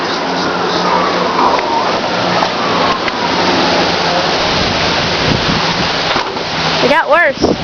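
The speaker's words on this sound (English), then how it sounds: "Not too bad raining." Rain pours steadily outdoors during a big storm, a dense, loud hiss lasting throughout, with wind buffeting and brief voices and rustling near the end.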